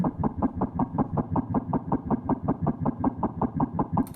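A low, plucky synth note pitched down six semitones repeats in a steady rapid pulse, deep sub-bass underneath, loud and alone for about four seconds.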